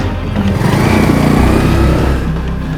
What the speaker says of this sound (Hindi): चल भगा भगा, गाड़ी भगा।